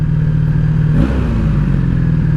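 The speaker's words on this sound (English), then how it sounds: "She's idling really high for some reason." A 1984 Honda Sabre VF1100S motorcycle engine idles fast with a steady, buzzing drone, close and loud, with a brief clatter midway.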